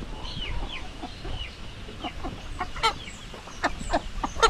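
A Jersey Giant hen, a black chicken of about seven and a half kilos near laying age, clucks repeatedly at close range among other fowl, with short sharp calls growing busier toward the end.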